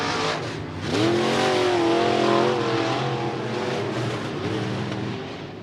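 Sportmod race cars roaring around Interstate Speedway, engines revving and rising in pitch as several cars pass together, loud and continuous with the crowd-free track noise dominating.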